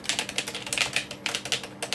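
Rapid typing on a YockTec ZK-P010 semi-mechanical RGB gaming keyboard, a close, steady run of crisp clacking keystrokes with a few heavier strikes and no voices.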